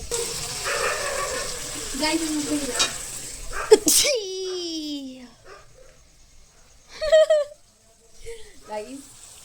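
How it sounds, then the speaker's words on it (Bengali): Spices being stir-fried (koshano) in a pan, giving a soft sizzle and scraping stir heard under a voice talking throughout, with a few louder clatters partway through. "এবার এগুলোকে ভালো করে কষাতে হবে।"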